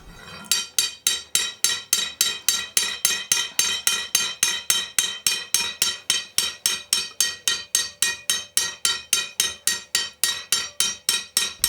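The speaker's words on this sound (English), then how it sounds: "To make rings, the beadmaker uses a thicker rod and then must strike it with a hammer" A beadmaker in a Turkish glass eye bead workshop in Nazarköy striking a thick glass rod with a hammer to loosen a ring, giving a long steady series of sharp clinking blows in even rhythm, close and clear.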